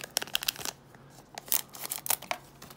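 Scissors snip open the tops of trading card packs in a rapid series of close, crisp cuts and crinkling foil wrapper sounds, with no talking.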